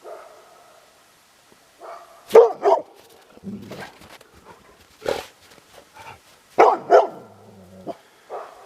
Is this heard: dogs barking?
yes